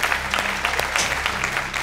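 A television studio audience claps for a singer, giving a short burst of steady, fairly close applause with no one talking.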